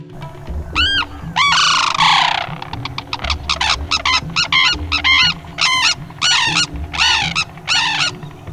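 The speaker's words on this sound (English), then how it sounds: "You really can't miss the call. It is so loud and so in your face" Loud, brassy Sarus crane calls ring out in a rapid series of trumpeting bursts, close and dominant, with a low background rumble.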